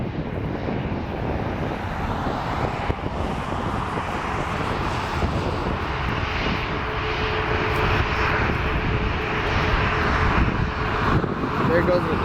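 ERJ-175 jet airliner departing from Portland, a steady distant jet engine roar building slightly over several seconds, heard from the ground with wind noise and faint voices.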